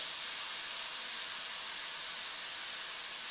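Steam hissing steadily from a pressure cooker releasing pressure after a whistle while chicken sambar cooks, a constant bright hiss with no pauses, close and fairly loud, with no voices.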